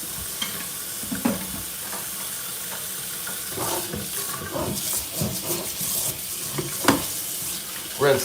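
A kitchen sink tap runs while hands are rinsed beneath it, a continuous close hiss of water with irregular splashing and rubbing, and no talking.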